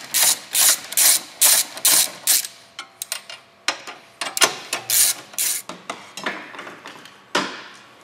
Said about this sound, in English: You're going to start by taking both of these bolts right here loose on both sides.